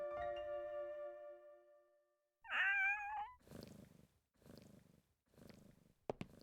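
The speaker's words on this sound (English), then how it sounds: "take the one sleeping in that basket. She's a nice cat." Cat purring in the 2001 video game Shadow of Memories, a few rhythmic rumbling purr pulses, close and fairly quiet, following a short tonal game sound and a brief bright chirp.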